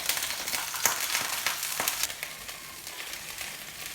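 Pieces of veal sizzle and crackle in olive oil in a pan for a veal tajine with artichokes and peas, a loud spitting fry with sharp pops early on that settles into a steadier, softer sizzle.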